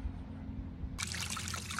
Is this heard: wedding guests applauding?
no